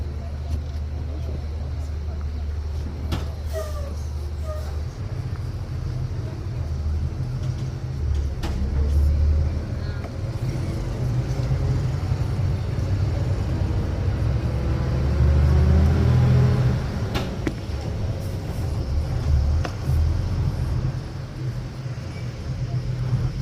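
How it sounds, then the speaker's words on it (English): A noisy bus grinds along winding hilly roads in rural Rwanda, a low engine rumble swelling and easing with gear changes and rattles, while a person talks over it. "our bus was never quiet."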